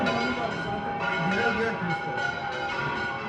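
Church bells of Santa Caterina in Valencia ring steadily with layered tones at noon, heard under people talking nearby.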